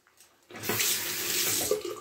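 Tap water running into a sink for a wet head shave with a Gillette 1949 Super Speed razor, starting abruptly after a brief quiet moment and pouring steadily and close up.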